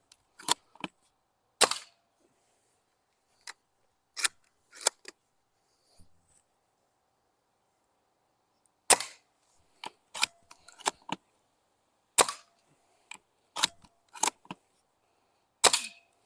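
An airsoft sniper rifle fires at targets outdoors, with sharp, separate shots and impact snaps spread irregularly across the stretch, some in quick pairs and clusters, loud against quiet gaps.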